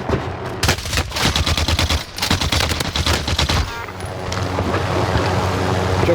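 Gunfire in the video game Call of Duty Modern Warfare, loud rapid bursts of shots in quick succession, then fading into steady background rumble.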